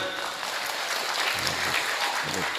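Hand clapping from an audience at an Islamic sermon, a soft, continuous wash of applause at moderate distance, with faint voices murmuring underneath.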